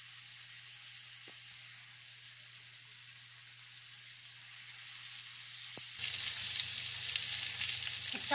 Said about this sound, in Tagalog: Nag-fry pa lang tayo.